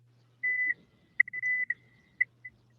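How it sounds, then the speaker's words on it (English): A small electronic alarm beeps in a quiet room, giving a few steady tones, two of them long and the rest short, at a moderate level with low hum underneath. "It seems like they have a little alarm going off"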